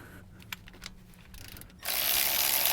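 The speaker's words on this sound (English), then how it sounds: "I'm going to take this 13 millimeter bolt here out" A ratchet clicks in short, sparse strokes while loosening a 13 mm bolt on a GM K-series 4WD truck spindle, followed by a sudden louder burst of hissing mechanical noise.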